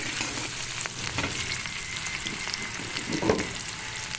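Chopped onion and green chili sizzle steadily in hot oil for a rui fish curry, with a few scraping stirs cutting through the constant close frying hiss; no voices.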